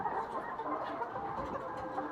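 Chickens cluck softly and continuously on a poultry farm of 21-week-old laying birds, a low busy murmur of many hens close by, with no talk over it.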